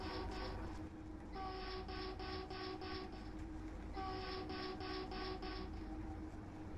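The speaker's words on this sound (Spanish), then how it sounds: "silbatamos de que no vamos a parar" A train whistle in a train-driving video game sounds in two rhythmic bursts of several quick tonal pulses each, over the constant low rumble of the locomotive running along the track.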